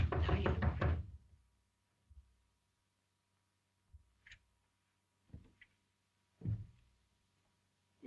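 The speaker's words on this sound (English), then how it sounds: "I thought I heard a knock." Someone knocks on a door in a 1929 film: a handful of faint, dull raps spread irregularly over several quiet seconds, following a short burst of louder sound at the start.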